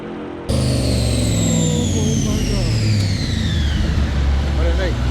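Dodge Demon with a Hellion twin turbo kit and 72 mm turbos, its engine roaring loud and close in a steady high rev after a brief quiet start, with rising turbo whine over the deep exhaust drone.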